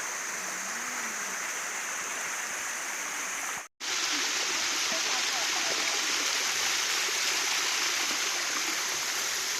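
Steady, full rush of falling water from a limestone waterfall, loud and continuous, with a brief cut partway through.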